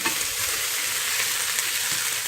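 Food frying and being stirred in hot olive oil, a dense continuous sizzle close up, steady and fairly loud, with no talking.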